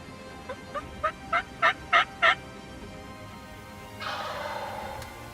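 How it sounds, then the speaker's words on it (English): A wild turkey tom gobbles during a spring hunt, one rolling call that swells from soft to loud pulses, heard alone outdoors and followed by a brief rustle. "all of a sudden we had heard this tom gobble"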